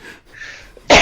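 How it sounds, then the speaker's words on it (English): A person with allergies lets out a loud, harsh cough near the end, after quiet breathy background noise. "My allergies are really kicking up today, so I'm coughing and sneezing"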